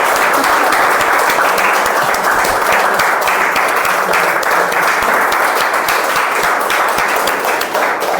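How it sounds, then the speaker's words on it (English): Sustained applause from a meeting audience honouring a keynote speaker at a speech evaluation workshop, steady and full throughout, with no speech over it. "Can we have a standing round of applause for our keynote speaker?"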